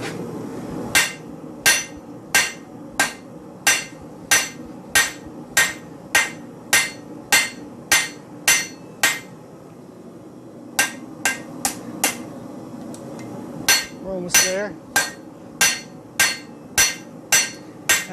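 A hammer strikes metal while a nut cracker is being forged, giving steady, evenly spaced sharp blows in two long runs split by a brief pause. A voice speaks briefly between the strikes.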